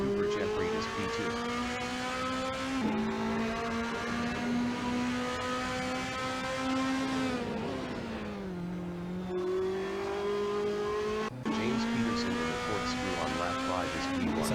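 A race car engine in the Assetto Corsa racing game drones and revs steadily through a lap at the corkscrew, pitch rising and falling with gear changes and braking, while a commentator talks over it.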